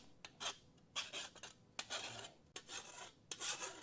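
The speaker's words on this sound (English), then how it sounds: "let me get my file, and we'll just get rid of the burrs" Steel file rasping burrs off the freshly cut edge of rusty Dodge Crew Cab truck body metal in a shop, several separate close, bright scraping strokes with short pauses between them.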